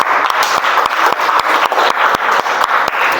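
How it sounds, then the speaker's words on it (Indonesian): Children in a classroom clap together in a steady, rhythmic burst of applause, loud and close, with sharp regular claps throughout and no talking. "Beri tepuk tangan anak-anak."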